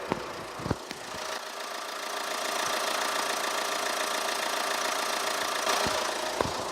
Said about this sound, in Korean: 그냥 엔진 소리 한번 바로 들려드릴게요.